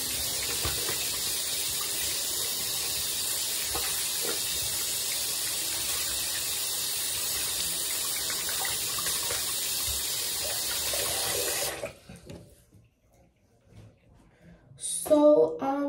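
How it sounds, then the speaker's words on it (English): Hands rinsed under a running tap, a steady loud gush of water that stops abruptly near the end, followed by brief faint handling noises. "So I'm gonna rinse my hands."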